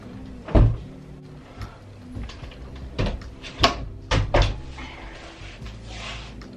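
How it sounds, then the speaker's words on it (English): A room door is pushed shut in a bedroom, giving a few close, soft knocks and thuds with light handling noises between them and no one speaking. "and close this door."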